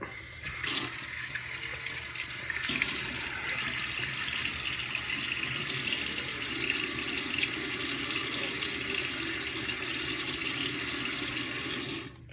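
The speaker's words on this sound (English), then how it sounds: "Let me get my face wet." Bathroom tap runs steadily into a sink while a face is wetted before a wet shave, a continuous close splashing stream lasting several seconds with no voices.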